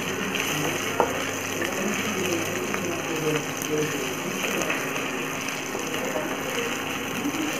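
Ingredients with garlic paste sauté in a pan for a peanut biryani, giving a steady, close sizzle with light stirring scrapes throughout, no talk over it.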